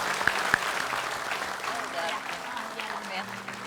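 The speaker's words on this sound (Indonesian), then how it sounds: "kita kasih tepuk tangan dulu" Audience applause at a necklace presentation for a grandmother, light scattered clapping under ongoing talk, fairly soft and continuous with a couple of sharp claps near the start.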